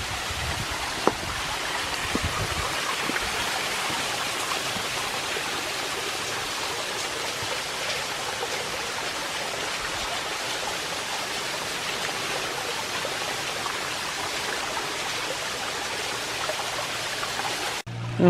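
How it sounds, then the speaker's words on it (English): Water rushes down a small stream in a Tennessee nature preserve, a constant broadband wash of flowing water, steady and close, with no other sounds above it. "Look at all this water coming down."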